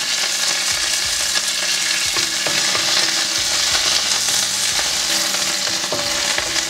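Frozen curry leaves tempering in hot oil for a chana dal curry, giving a loud, steady sizzle and crackle that runs unbroken throughout, with faint stirring clinks and no talking.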